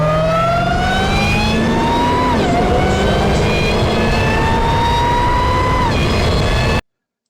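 Modded car engine and exhaust in GTA 5 accelerating through gears: loud, close rising engine whine with two shift drops, harmonic tones climbing steadily before cutting off abruptly near the end, no talk.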